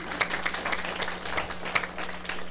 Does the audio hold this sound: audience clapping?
yes